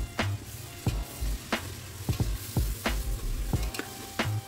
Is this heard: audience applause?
no